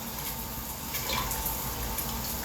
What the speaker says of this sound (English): the water pressure in this building, in the shower